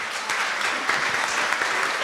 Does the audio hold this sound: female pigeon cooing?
no